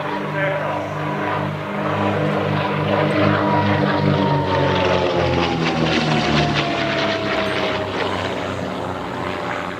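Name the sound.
aircraft on final approach and landing at air show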